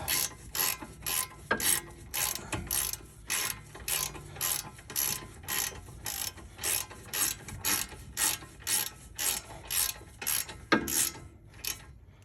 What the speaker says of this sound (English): we're just gonna get the ratchet